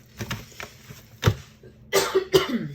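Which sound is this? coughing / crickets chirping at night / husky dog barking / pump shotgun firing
coughing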